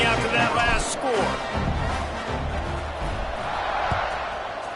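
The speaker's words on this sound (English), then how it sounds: "this crowd is buzzing after that last score" A football stadium crowd buzzes after a score, a broad roar of many voices rising and falling in the distance while a commentator talks over it up close.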